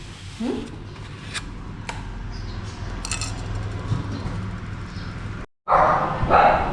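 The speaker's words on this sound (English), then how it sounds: "All she does is bark the whole time when somebody comes" A small dog barks at customers in a shop: a few short barks and yelps over clinking and background clatter, ending in a louder burst near the end.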